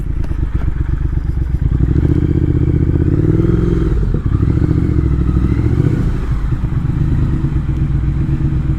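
A motorcycle climbs a tight turn and steep hill at the end of a road test, its engine droning loud and steady throughout with some clattering and scraping mixed in, and no voices.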